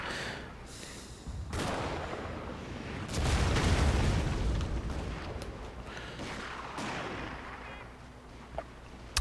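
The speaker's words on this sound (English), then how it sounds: "I really wish those sharpshooter were firing faster." Battlefield din from Total War Shogun 2: Fall of the Samurai, with sharpshooter gunfire mixed into a continuous rumbling roar of cannon booms and crackling volleys that swells in the middle.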